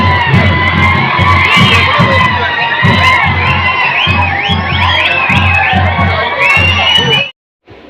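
A large crowd shouts, whoops and cheers loudly and without a break at an Ugadi temple festival in Kurnool, where a bullock procession moves through mud around the goddess temple. The roar stops abruptly near the end.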